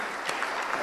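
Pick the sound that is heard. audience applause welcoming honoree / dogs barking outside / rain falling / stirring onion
audience applause welcoming honoree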